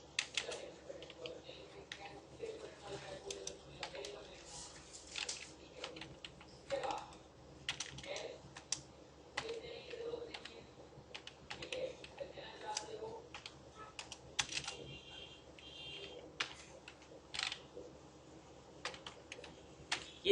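Steady typing on a computer keyboard while writing T-SQL commands, a close, quiet run of irregular keystroke clicks over a low background hum, with a faint voice at times.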